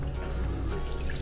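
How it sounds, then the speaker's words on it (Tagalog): A hotel bathroom tap with weak water pressure runs steadily nearby, making a brief, continuous splashing flow. "Hindi ganun kalakas yung water pressure, pero okay naman."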